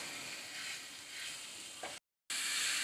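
Boneless chicken pieces for tikka-flavoured mini pizza topping fry in a pan with a steady broadband sizzle, broken by a brief silent gap before the sizzle returns slightly louder.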